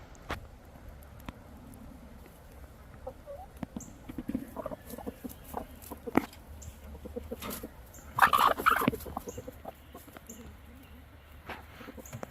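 A Wyandotte rooster clucking outdoors in a short run of soft, irregular calls after finding something, with a louder burst of clucks midway over a low ambient background.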